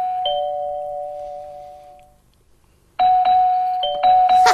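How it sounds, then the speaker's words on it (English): A doorbell in a children's TV show about a house rings twice, each a sustained electronic chime with a pause of silence between, clear and fairly loud with no talking. "Go on, ring your bell."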